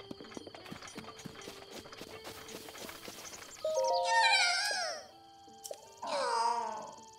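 Horse hooves clip-clop in a steady rhythm while riding in Zelda Breath of the Wild, followed by two loud, drawn-out horse whinnies near the end, with no talking.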